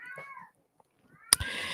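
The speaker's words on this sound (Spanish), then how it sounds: "los gatos están haciendo el amor." Mating cats give off drawn-out meowing and caterwauling calls, fading into a short silence before a sharp loud burst and noisy wailing at close range, with no talking.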